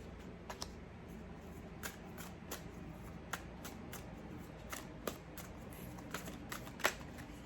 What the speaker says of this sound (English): Sorry you're sitting here watching me shuffle.